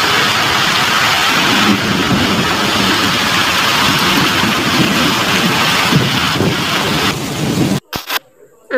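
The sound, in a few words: heavy rain with storm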